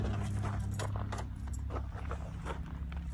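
Original keys for a 1965 Ford Mustang V8 jangle and clink repeatedly in bright, close metallic bursts over a low steady hum.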